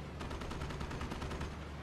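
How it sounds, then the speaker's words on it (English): Panzerschreck rocket launcher fire in a World War II strategy game, a fast run of sharp gunfire-like bursts repeating evenly over a steady battle din, quiet and distant. "First Shrek just firing at the engineers."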